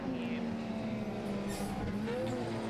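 Historic touring cars, a BMW M3 among them, race on a circuit, a continuous engine drone with a low steady tone and a rising pitch sweep as a car passes, heard at moderate distance.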